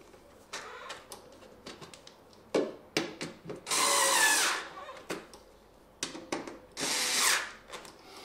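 A power drill drives screws into a pedal: short, repeated trigger bursts followed by two longer whirring runs, moderately loud and close, with quiet gaps between.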